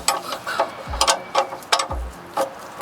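Wrench clicking on the oil drain plug of a Ford F-350 7.3 turbo diesel, with a few sharp metallic ratchet strokes and scraping taps, each followed by a low thump, close and moderately loud.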